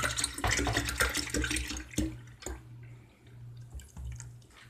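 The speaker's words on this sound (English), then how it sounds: "so I'll just pour that right into this mixture I have here" Half-and-half poured into an eggnog creamer mixture, a close splashing, trickling stream that thins into scattered drips and small splashes.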